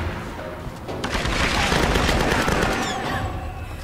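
Rapid automatic gunfire in the Tomb Raider video game, dense bursts of shots and booms rattling close and loud for several seconds amid the game's ambience.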